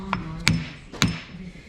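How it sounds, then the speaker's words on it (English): A rubber mallet taps a seal flush into place on a 6.0 diesel engine cover: three sharp knocks about half a second apart, close and distinct, over faint background hum. "you want to use a rubber mallet"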